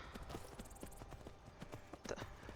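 Horse hooves clip-clopping in the virtual-reality game Skyrim VR, a steady run of hoof strikes that stays close and loud for the whole stretch, with an occasional faint snort mixed in.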